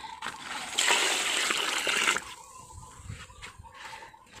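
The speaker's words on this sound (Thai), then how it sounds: "เติมน้ำอีกนิดนึงค่ะน้ำยังน้อยอยู ่นี่นะคะน้ำประปาก็จะตักไว้ตรงนี" Water poured into a container of homemade liquid fertilizer, a steady close splashing gush lasting over a second, then quieter trickles and handling sounds.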